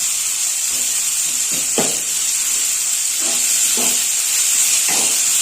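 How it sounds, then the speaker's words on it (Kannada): Onion, mustard seeds and curry leaves frying in cooking oil in a pan: a steady, bright sizzling hiss runs throughout, with occasional soft pops and spatters crackling up from it. No one talks. "ಇವಾಗ ಬಾಂಡ್ಲಿ ಒಳಗಡೆ ನಾವು ಅಡಿಗೆ ಎಣ್ಣೆ ಮತ್ತೆ ಸಾಸಿವೆ, ಕರಿಬೇವಿನ ಸೊಪ್ಪು ಮತ್ತೆ ಈರುಳ್ಳಿ ಹಾಕೊಂಡು ಇಷ್ಟನ್ನು ಇವಾಗ ಫ್ರೈ ಮಾಡ್ಕೊತಾ ಇದೀವಿ"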